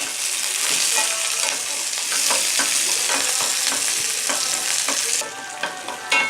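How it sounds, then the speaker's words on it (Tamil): Shallots sautéing in a pan for mutton kuzhambu, a loud bright continuous sizzle with repeated spatula scrapes and taps throughout, easing slightly near the end. "இப்போ சேர்த்துக்கிறேன். சேர்த்துட்டு இது நல்லா வதங்கட்டும்"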